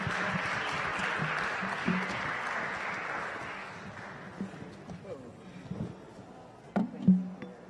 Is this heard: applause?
yes